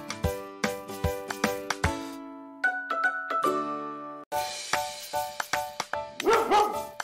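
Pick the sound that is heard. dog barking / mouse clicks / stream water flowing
dog barking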